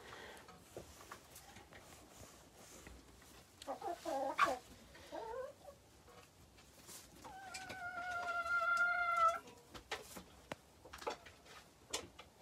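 Chickens in a coop settle onto their roosts for the night with soft, scattered clucks, then a louder stretch of drawn-out, tonal calls, fairly close in a quiet indoor space.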